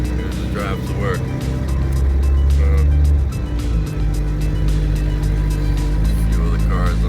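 A 2007 Toyota Yaris with worn exhaust needing repair, driving to work on a road: a loud, steady low engine drone with a rise in revving partway through, tyre and road noise, and other cars around.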